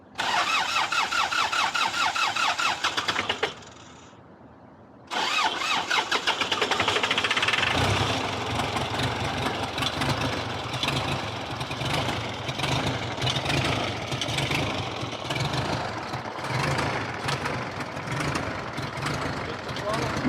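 A diesel truck engine with glow plugs cranks and catches, then settles into a loud, steady idle with some knocking. People talk over it near the start and later on.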